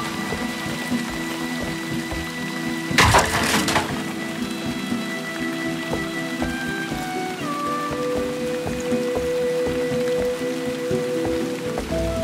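Steady, dense rain falls in the fantasy game Operencia, a continuous hiss of drops on surfaces running throughout, with a brief louder burst early on and faint tonal game music underneath; no one talks.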